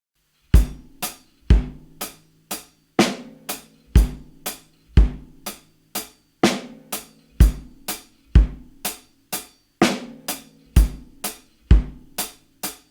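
A full drum groove in seven with a hi-hat variation cycles steadily, mixing punchy kick drum, snare cracks and bright cymbal strokes in a repeating uneven pattern, close and loud with no voices.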